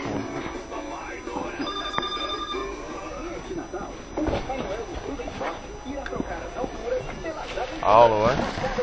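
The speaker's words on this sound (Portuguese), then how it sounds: "Agora o telefone." An indoor telephone bell rings in short bursts under ongoing conversation and household background noise.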